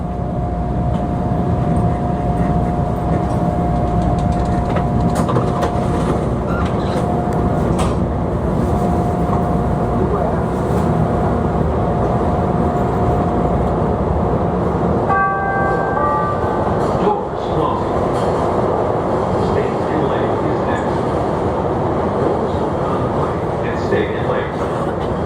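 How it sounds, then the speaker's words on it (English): A Chicago CTA Orange Line subway train rumbles steadily along the rails through the Loop, loud and continuous, with a brief squeal of wheels partway through. "This is an orange line train to Midway."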